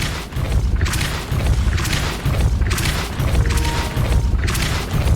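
Depulso force spell cast in Hogwarts Legacy: repeated booming blasts, about four heavy bursts spaced roughly a second apart, loud and close with rumbling low end and no voice over them.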